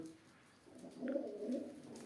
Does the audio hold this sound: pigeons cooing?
yes